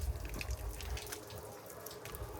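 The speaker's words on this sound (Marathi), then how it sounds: "आणि हे पाणी वाहते असं." Water from a borewell flows at a house construction site where a slab was being built, a soft, steady, faint running trickle with no voices.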